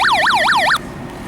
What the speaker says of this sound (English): that's the siren test, or the alarm test.